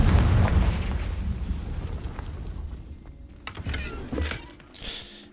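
Fiery blasting spell in a video game goes off with a loud low boom at the start, followed by rumbling decay and a few sharper crackling bursts later, no talking.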